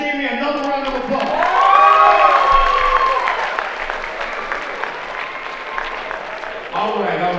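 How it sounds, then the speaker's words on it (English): An audience applauds and cheers at a presentation event, with loud sustained clapping, whoops and shouting voices throughout, swelling early and then easing. "Let's give Hashimi another round of applause."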